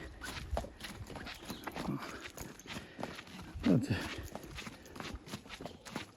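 A horse moving about in a barn stable, with irregular hoof clops and shuffling on the floor at close range, plus a brief higher squeal partway through.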